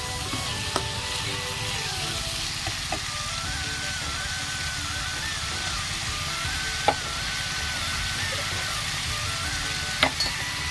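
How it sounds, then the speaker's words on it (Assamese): Steady sizzling and frying of turmeric and spices being stirred in a pan for a carrot dish, a continuous near hiss with a few faint utensil clicks and no talking. "এতিয়া ভালকৈ এনেকৈ লৰাই দি দিছোঁ।"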